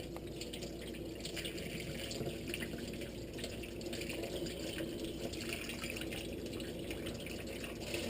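Water is poured into a pot of mung beans in a home kitchen. The splashing runs steadily and moderately loud for about eight seconds, with no talking.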